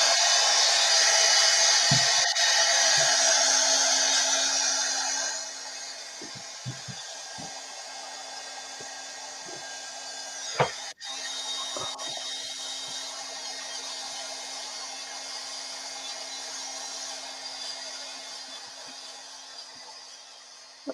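An electric hair dryer blows steadily on a craft project for about five seconds, then runs on at a lower, quieter setting under scattered taps and handling noises.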